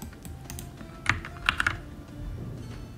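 Keyboard shortcut keys pressed in Blender, a few distinct quiet clicks spaced over a couple of seconds against a faint background.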